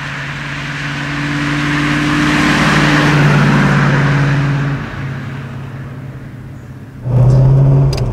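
A 1959 BMW 503 Cabriolet Series II is driven along, its engine humming steadily and swelling under acceleration, easing off, then rising sharply again near the end, heard close and fairly loud without speech.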